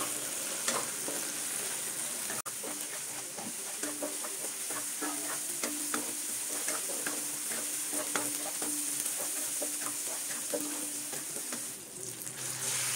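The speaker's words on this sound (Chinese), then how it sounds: "加入适量的辣椒干一起爆香。" Dried chili peppers stir-fry in a wok before pork belly goes in, giving a steady near sizzle with frequent light scraping and tossing clicks throughout and no talking.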